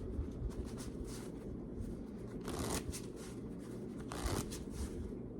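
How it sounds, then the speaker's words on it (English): Continuous papery riffling of playing cards in an open riffle shuffle, with a couple of louder bursts as the halves interleave; close and steady, no talking. "This is an open shuffle."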